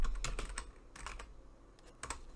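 Typing on a computer keyboard while saving a file in Krita: a few quick bursts of clicking keystrokes, close and clear, with short pauses between them and no talking.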